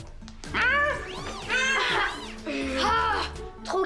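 A cartoon cat meows in a series of rising and falling cries against bouncy animated-show sound, with childlike squeals and voices mixed in.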